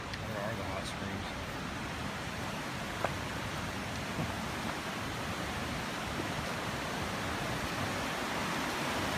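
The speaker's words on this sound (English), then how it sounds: "This is what they call a creek in British Columbia." Steady broadband rush of a creek near Sloquet Hot Springs, British Columbia, running close by, continuous and fairly loud throughout.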